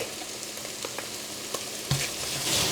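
Garlic fries in a pan, making a fairly faint, even sizzle with a few light ticks and a louder stir or crackle near the end, close by and without voices.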